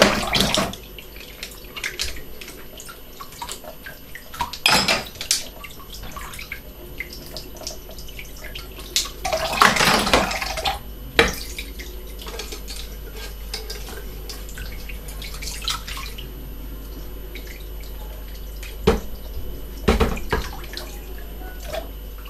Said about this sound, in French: je récupère l'eau en plus dans la même bassine